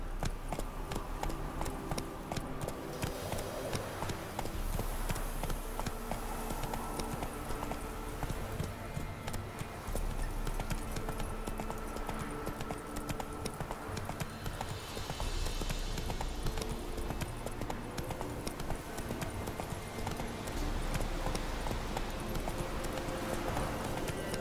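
A horse galloping in The Witcher 3: Wild Hunt on Xbox One, a steady, rapid run of hoofbeats clip-clopping without a break and loud against the game's background sound.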